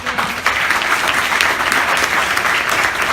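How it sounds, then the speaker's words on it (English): Audience applause at a forum talk, dense continuous clapping from a crowd filling the whole moment, loud and close. "Let's give him a applause."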